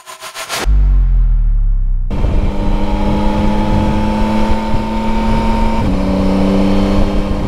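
A Yamaha Tracer 9 GT+ motorcycle engine, with a quickshifter, blips loudly and then holds a steady, strong drone while riding, stepping to a new gear partway through over constant wind rush.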